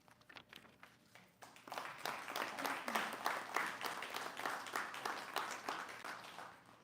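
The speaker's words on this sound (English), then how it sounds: "Thank you for the applause." Applause from an audience at a college convocation ceremony in Fort Nelson, a steady wash of many hands clapping that swells after a quieter start and holds at moderate loudness throughout.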